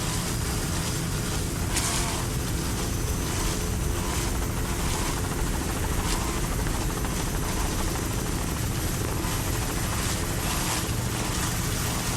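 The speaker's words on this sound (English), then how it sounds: "That's David Clark in that helicopter, the pilot." Helicopter flying over an offshore powerboat race at Fort Myers in 1999, its steady rotor thump and engine drone loud and constant throughout, dominating the scene with no talk.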